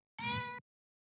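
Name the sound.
pet cat meowing for attention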